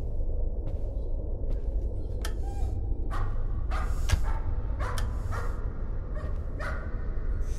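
A dog barking in the horror video game Layers of Fear: a string of sharp, scattered barks and yips over a low droning background, fairly close and spread across the clip.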